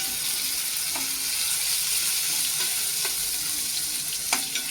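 Ginger garlic paste fries in a pan for a cashew-nut curry, sizzling steadily up close with occasional scraping stir clicks and soft splashes.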